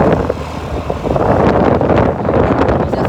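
A car speeds along with a loud, continuous road and engine rumble heavily mixed with wind buffeting against the microphone.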